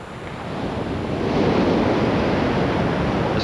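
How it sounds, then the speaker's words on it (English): Sea swell surging toward coastal rocks under a steady gusting wind, a broad continuous roar of surf and wind buffeting that builds and holds loud throughout, with no voices. "Quite a swell building up in this wind, as you can see."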